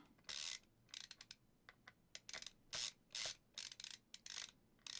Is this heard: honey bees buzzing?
no